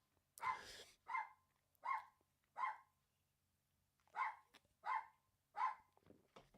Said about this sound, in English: We've got a barking dog.